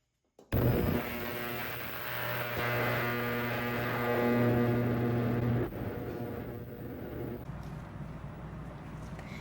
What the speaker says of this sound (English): The parts are done in the ultrasonic cleaner.